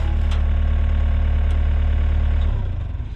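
A Takeuchi excavator engine idles close by with a steady low rumble that drops and sputters unevenly near the end.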